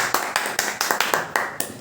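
Podcast studio audience claps to welcome a guest: sharp, evenly spaced hand claps, about seven or eight in quick rhythm, close and fairly loud with no one speaking.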